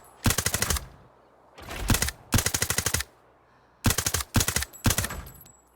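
Cheap gun in the video game Arena Breakout firing in short automatic bursts, six rapid rattling volleys with brief pauses between, loud and close.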